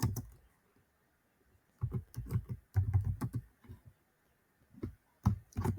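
Close, quiet clicking of a computer keyboard as code is typed, irregular bursts of keystrokes separated by brief pauses, with no talking.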